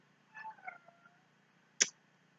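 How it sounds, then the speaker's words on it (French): A single short cat meow, faint and close by, follows a soft murmur of background voice in an otherwise quiet room. "C'est mon chat qui me perturbe, il miaule là."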